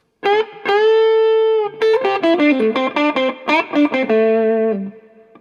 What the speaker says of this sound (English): Give it a little bit more reverb.